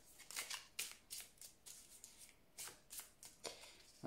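A deck of oracle cards being shuffled and cut, quiet close-up riffles and flicks in rapid uneven bursts, with no talk.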